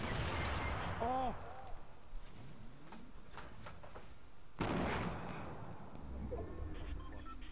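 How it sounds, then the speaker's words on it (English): Grenade blasts in the Fortnite Battle Royale video game, two sharp bursts with rumbling tails about four seconds apart, heard under players talking and game noise. "They're throwing grenades."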